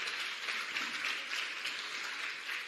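A crowd at a forgiveness meditation session breaks into sustained applause, a dense, even wash of many clapping hands heard from a distance at moderate level, with no talking over it.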